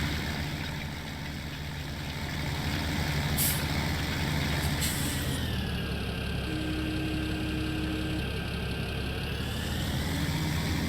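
Air brakes hiss on a heavy farm vehicle in Farming Simulator 17, layered over a steady idling engine drone with a brief sharp release near the middle and a tonal whine later, no talking.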